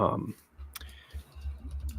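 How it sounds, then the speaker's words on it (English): Keys clatter on a keyboard in short runs of soft taps, close by, after a brief moment of a voice at the start. "if you guys can hear me typing"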